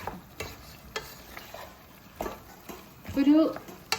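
Chicken frying in a pan is stirred with a utensil, giving soft scrapes over a light sizzle and a louder stirring burst near the end, while a person talks.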